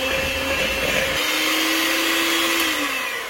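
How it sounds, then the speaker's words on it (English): Electric hand mixer beating butter and powdered sugar, a steady high motor whine that drops slightly in pitch as it works, loud and close with no talking. "Get back on it with the hand mixer."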